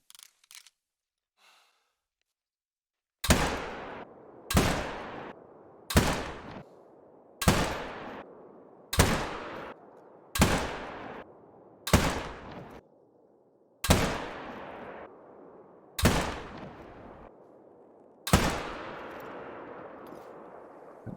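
Ten shots from a Malmer 7mm Magnum rifle are fired at a 50-meter shooting range in theHunter: Call of the Wild. Each is a loud, close, sharp report with a ringing decay, spaced about a second and a half apart, with nothing else between them.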